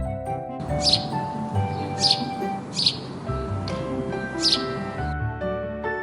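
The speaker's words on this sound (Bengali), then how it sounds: "সোনালি চুরুইকে ইংরেজিতে বলে গোল্ডেন স্প্যারো" Four high, sharp golden sparrow chirps spaced about a second apart over a soft musical backdrop; clear and close, no speech.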